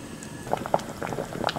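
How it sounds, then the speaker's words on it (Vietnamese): Pork being blanched in a pot of boiling water for caramelized braised pork, with a quiet, steady bubbling and soft irregular pops close by and no talking. "bây giờ mình sẽ trụng thịt để thịt bán đi mùi hôi"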